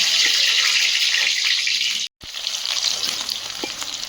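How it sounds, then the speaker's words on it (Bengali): Potatoes and onions frying in hot oil in a kadai, a steady loud hiss of sizzling that breaks off briefly before resuming. "তেল গরম হয়েছে আলু আর পেঁয়াজ দিয়ে দেবে"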